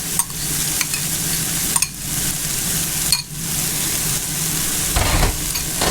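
Paste being stirred and fried in a pan for an orzo pasta dish, a close, loud sizzle under repeated scraping stirs, with brief gaps and a low thump near the end.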